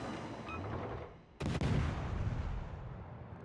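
World of Warships ship guns firing, a sudden loud broadband blast followed by a second crack, then sustained rumbling roar of naval gunfire, close and heavy, with no talk.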